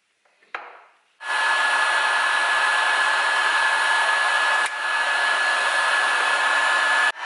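A heat gun or hair dryer blows steadily on an engine casing to warm it before a bearing is fitted, a loud continuous whooshing hum after a brief click and start, with a short dip midway and no talk.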